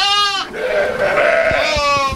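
Sheep bleating on a farm holding around 800 lambing ewes: one wavering, nasal bleat at the start, a blended, murmuring flock in between, then another clear bleat near the end, close and loud.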